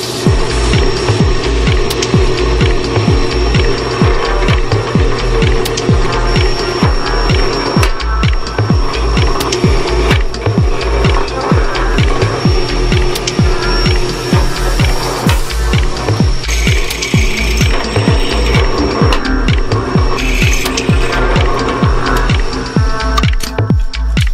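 A power drill grinds steadily and loudly through material with a cutting-oil-lubricated drill bit, a dense mechanical whine with rhythmic chattering throughout.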